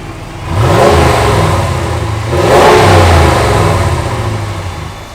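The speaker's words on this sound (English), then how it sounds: "you're gonna hear how stock this exhaust is" A Ram 1500 pickup's V8 engine revs loudly twice through its stock exhaust, each rise swelling into a deep roar before settling back toward idle.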